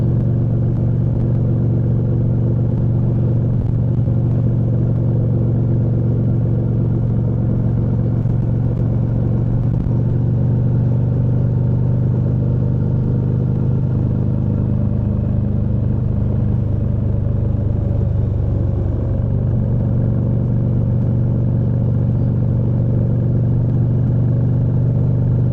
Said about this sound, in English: I am riding a Triumph Bonneville T100, and it is a 2025